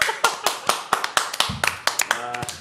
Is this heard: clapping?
yes